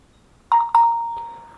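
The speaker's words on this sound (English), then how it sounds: "if you heard that in the background, that was actually my phone" Two quick chime tones from a phone notification ring out close together, the second one sustaining and slowly fading, with a soft click near the end.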